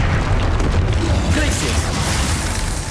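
Bombarda blasting spell from the Hogwarts Legacy video game going off as a dense, loud booming burst that fills the whole three seconds with heavy low rumble and crackling debris.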